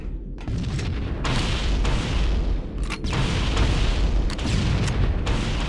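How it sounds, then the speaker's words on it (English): In Halo: Combat Evolved, the Covenant destroy launching life pods in a loud, continuous barrage of deep booming explosions, heavy rumbling blasts that roll one into another with a few sharp cuts between bursts. "The Covenant are destroying the life pods."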